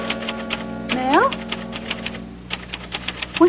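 A typewriter clacks out a letter in quick irregular bursts of sharp key strikes, with a carriage-like ratchet and a brief voice mixed in, all close and fairly loud.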